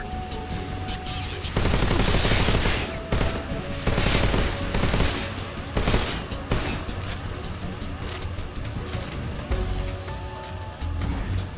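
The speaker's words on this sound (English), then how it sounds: "Requesting mortar support." Mortar support fire in Metal Gear Solid Delta: Snake Eater, a dense, loud barrage of overlapping blasts and crackling gunfire continuing throughout, with radio voices speaking over it.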